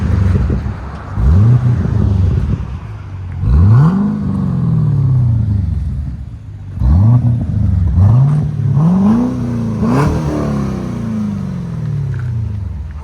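A 2012 Cadillac CTS-V with a 6.2-liter supercharged V8 and Carven TR-Series exhaust revs repeatedly, each blip rising and falling in a loud, close sweep, with a steady deep idle rumbling between the pulls.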